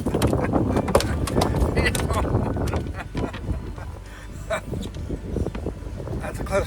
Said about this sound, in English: the wind's blowing me into the bank here